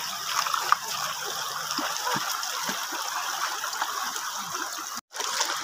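A river crossed on the way to gather pili nuts, its water rushing and gurgling steadily throughout, with a brief dropout near the end.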